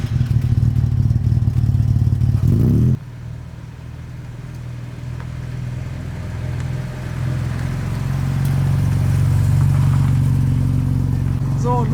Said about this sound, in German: los geht's zu unserer tollen Probefahrt hier im schönen Bayern in unserem neuen Jaguar XK 140 Roadster